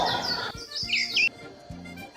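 A bird gives a few quick, high chirps close by, short bright calls clustered in the middle of a brief stretch, with faint low background sounds around them.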